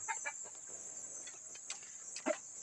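A native labuyo chicken clucks in a few short, separate bursts over a steady high-pitched insect hum, fairly close, with no talking.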